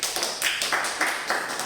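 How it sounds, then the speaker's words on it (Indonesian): Classroom applause during a micro-teaching lesson, with rhythmic clapping in repeated bursts of broadband claps, moderately close, no talking. "Oke, beri tepuk tangan."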